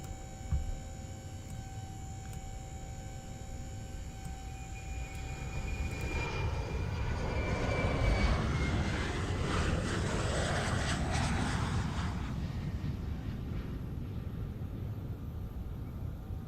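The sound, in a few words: Boeing 737 APU spooling up in Microsoft Flight Simulator 2020 video game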